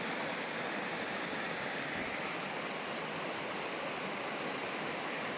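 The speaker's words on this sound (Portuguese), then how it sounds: "E vamos conhecer uma cascata muito bonita que tem aqui." A forest waterfall cascading into a stream in Águas Brancas, Três Coroas, gives a steady, dense rush of falling water, constant and moderately loud with no other sounds.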